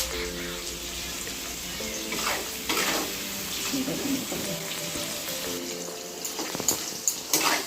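Onion frying with salt in a pan for a chicken and mutton curry gives a steady low sizzle. Occasional scraping stirs cut in, and a faint hum sits underneath.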